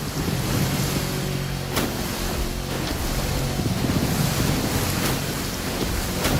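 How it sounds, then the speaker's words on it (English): Ocean waves in the racing video game The Crew Motorfest, heard while a boat crosses them: continuous rushing surf and wind noise with a few sharper splashes, loud and close, with no talking. "These waves are not easy to navigate."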